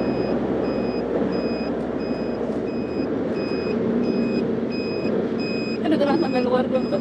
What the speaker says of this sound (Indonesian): Dan ini kita nggak mungkin lupa pakai sen karena bunyinya keras.